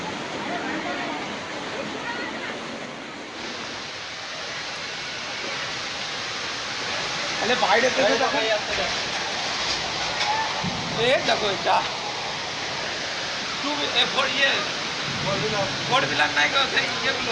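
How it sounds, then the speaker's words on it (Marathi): Floodwater rushes through city streets in Nashik after heavy rain, a constant broad roar of flowing water with voices talking over it and intermittent louder surges. "मोठ्या प्रमाणात पाण्याचा लोंढा या परिसरामध्ये आला"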